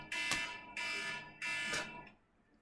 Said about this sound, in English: My alarm scared the shit out of me.